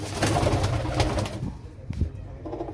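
Fancy pigeons cooing up close in their coop, low throaty warbles repeating in the first half, then fading into quieter rustling and a couple of soft thumps.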